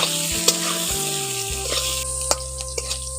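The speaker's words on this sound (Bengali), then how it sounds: "এখন আলুগুলোকে একটু লাল করে ভেজে নিয়েছি" Potatoes fry in oil until reddish, a loud, continuous close-up sizzle with a few sharp crackles and pops, and no talking.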